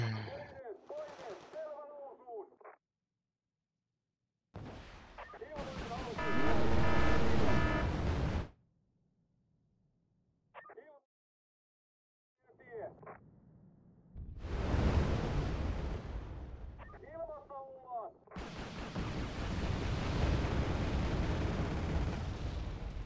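Gunfire and explosive blasts from the real-time strategy game Wargame: Red Dragon, heard in loud, broadband bursts separated by short silences, with talk mixed in at times.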